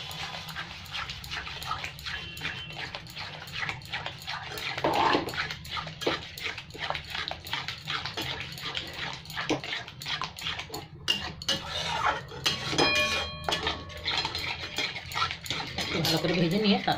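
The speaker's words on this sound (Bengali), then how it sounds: "এবার দইটাকে ভালো করে মশলার সাথে মিশিয়ে দিই।" Curd stirred into fried spices in a pan over low gas for a Bengali doi maach, giving repeated scraping and clinking strokes of a spoon against the pan, fairly close and continuous, while a voice talks over it.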